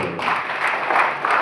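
Applause from the audience at a journalists' training and honour ceremony as an honoree is recognised, a dense continuous wash of many hands clapping together, steady and moderately loud throughout the short stretch, with no talking.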